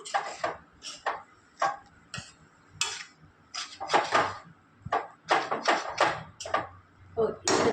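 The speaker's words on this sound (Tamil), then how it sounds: "இன்னும் கொஞ்சம் கூட கிண்டி கொடுக்குறோம்" Banana flower usili is stirred in a pan, with irregular scraping and clacking strokes of a spoon against the pan interleaved with a voice talking throughout.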